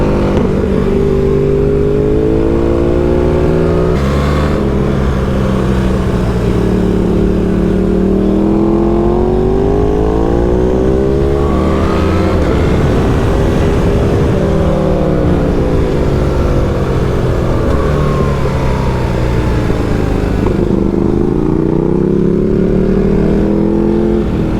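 A car with a loud exhaust at a track day, engine droning and revving with rising and falling pitch as it accelerates and shifts, loud and continuous for the whole stretch with no voices.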